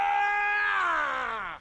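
A loud, drawn-out scream sound effect set off by a livestream chat command, a single sustained shriek lasting over a second that slowly falls in pitch before cutting off abruptly.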